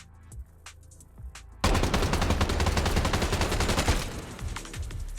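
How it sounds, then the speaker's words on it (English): Video game gunfire fired to compare recoil: a few faint shots, then a loud, sustained burst of rapid automatic fire that tails off into scattered shots, with no talk. "the last thing I want to leave you guys with is a recoil comparison between the spread control upgrade, recoil handling upgrade, and no upgrade"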